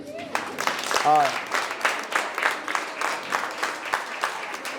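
An audience claps in response to a call for applause at a talk on empowering teen moms, with scattered, moderately loud bursts of hand claps and a voice speaking briefly at the start.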